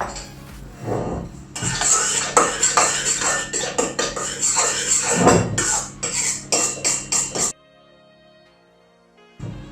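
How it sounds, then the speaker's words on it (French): A spoon turns through a bowl, folding egg whites into batter for a keto coffee-and-chocolate entremets, with clinks and scrapes under a voice talking; it goes quiet near the end. "Il faut juste tourner comme ça la cuillère pour incorporer les blancs sans les casser"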